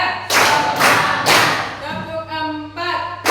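Children in a classroom clap together in a counted rhythm, three broad group claps in quick succession, followed by a voice speaking.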